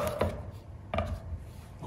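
Two sharp knife chops on a cutting board about a second apart, with a fainter third knock near the end, cutting vegetables into coarse cubes for gazpacho; no talking.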